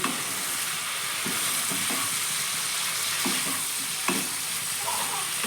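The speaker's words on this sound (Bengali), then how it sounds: "দু মিনিটের পর আমি ঢাকাটা খুলছি দিয়ে আবারও ভালো করে আমি একটু নেড়ে নিচ্ছি" Spiced cauliflower fries in an uncovered pan with a steady, dense sizzle, broken by occasional scrapes and knocks of a spatula stirring the pieces, close up, with no voices.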